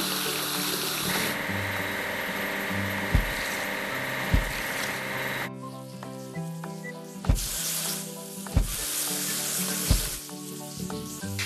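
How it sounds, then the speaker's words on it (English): A timber loader being washed in a railway station train video game, with a steady synthetic spray and gushing water sound under game music, then a sparser musical stretch punctuated by several sharp thumps. "We need to wash the timber loader."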